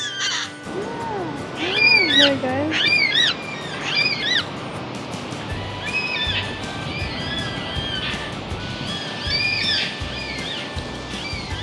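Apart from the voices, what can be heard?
black cockatoos calling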